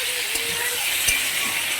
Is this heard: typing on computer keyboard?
no